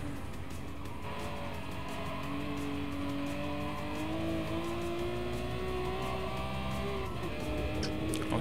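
Slow vintage 1979-era race cars in the Gran Turismo Sport racing game, engines droning steadily throughout with a rising, sustained tone and continuous mechanical roar, no talking.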